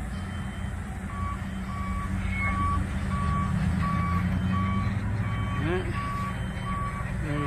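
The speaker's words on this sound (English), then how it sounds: "A lot of construction going on here in Vegas." A construction vehicle at a Las Vegas building site sounds its reversing alarm, a regular string of clear beeps over a low rumble of trucks and machinery, with faint voices in the background.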